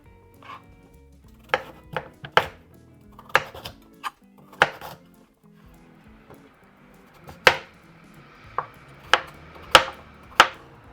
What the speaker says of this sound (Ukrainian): Нарізаємо невеличким кубиком батат і гарбуз.